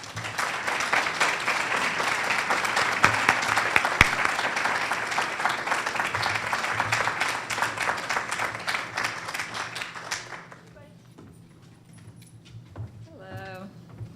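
Sustained audience applause at a press conference welcoming a guest, dense and steady for about ten seconds before fading out as a voice begins speaking.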